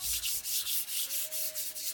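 Steady rhythmic rubbing across paper card, brisk repeated back-and-forth strokes close and clear, applied to blend colour on a papercut card, with no talking.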